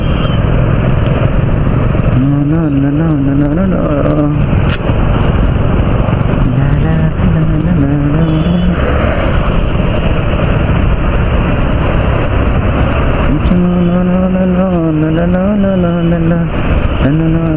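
Heavy road traffic on ISB road near Wipro Circle, with cars and lorries passing, heard as a continuous loud engine rumble punctuated by several wavering horn honks.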